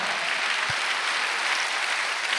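A congregation claps during a Sunday worship service at a Korean church, a dense, even roar of many hands applauding together that fills the room steadily from start to finish.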